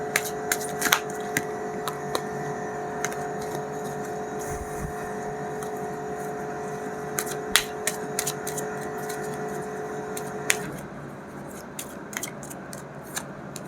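Tarot cards being shuffled and cut, a series of sharp papery snaps and riffles spaced irregularly over a steady background hum that drops away near the end.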